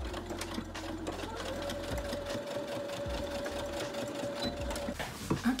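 A sewing machine stitches the shoulder seams of a corset top, a steady fast mechanical whir with rhythmic needle clatter, close and continuous, pausing briefly near the end.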